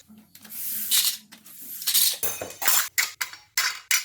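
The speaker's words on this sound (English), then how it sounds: "And then we just put this metal piece inside and rivet." A metal piece is riveted into a drawer, producing a series of sharp metallic clicks and clacks. They speed up into short bursts toward the end, close and moderately loud.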